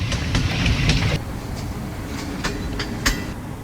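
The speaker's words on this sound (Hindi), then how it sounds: "हरीपुर हज़ारा के रेलवे स्टेशन पे हम अराइवल कर रहे हैं।" Train arriving at Haripur Hazara railway station, heard from on board: loud rumbling with rhythmic clickety-clack wheel knocks over the rails, easing slightly as it slows.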